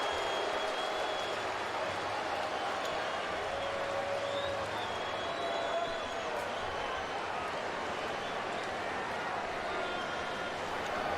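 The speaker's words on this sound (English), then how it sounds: "Dodger fans will boo, Cub fans will cheer" A baseball crowd at the Cubs–Dodgers game reacts to a balk call with a mix of boos and cheers, a steady, fairly distant roar of many voices that holds evenly throughout.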